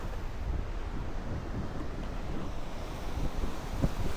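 Sea waves roll and wash at Watulumbung beach in Yogyakarta, heard as a low rumbling surge of surf heavily mixed with buffeting wind noise on the microphone, steady throughout with no talk.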